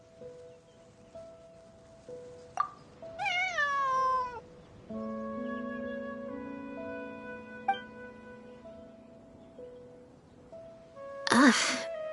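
A cat meows near a stream, several distinct rising meows scattered between quieter stretches, with soft rustling and background tones.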